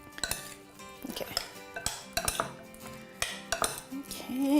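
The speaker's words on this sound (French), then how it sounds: "Mélangez bien comme il faut." Utensils stir and toss a lotus root salad in a bowl dressed with sesame oil and ginger, giving irregular clinks and scrapes of metal against the dish in uneven bursts, close and fairly quiet.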